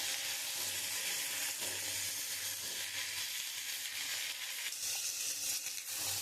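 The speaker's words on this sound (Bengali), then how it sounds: "আমি ঝিঙাগুলো একটু লাল লাল করে ভেজে নেব।" Ridge gourd frying in hot oil with black cumin, giving a steady, even sizzle that runs unbroken throughout with no talking.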